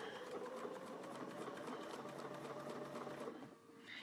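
A sewing machine runs steadily, stitching binding onto the layered edge of a quilt with a fast, even mechanical whir close by, then slows and briefly drops off near the end.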